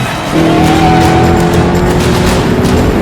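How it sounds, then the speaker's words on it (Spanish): Early automobiles pull away at the start of a race in a snowstorm, their engines rising into a close, loud, steady roar that holds after a brief quieter moment. "Y los autos parten."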